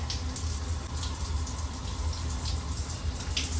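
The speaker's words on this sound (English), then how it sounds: "It comes out here and here. I don't have the water on very strong, but it comes out straight when the water is on strong." Water sprays steadily from the body jets of a cruise ship shower in a Celebrity Beyond Aqua Class cabin, running at low pressure as a constant, close hiss with no pauses.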